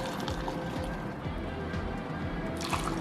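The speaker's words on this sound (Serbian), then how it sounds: "ja ću sada sipati u sterilisane flaše i tegle ovaj naš predivan sok od paradajza" Homemade tomato juice poured into sterilized glass bottles and jars, a soft continuous gurgling trickle with small drips and squishy splashes, close and quiet.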